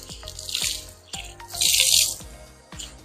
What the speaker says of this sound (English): wring out the chamois.